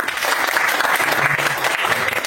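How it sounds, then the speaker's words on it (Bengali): Loud, dense applause from an audience at a company sales meeting, a continuous close wash of many hands clapping at once without a break. "একটা করতালি হয়ে যাবে।"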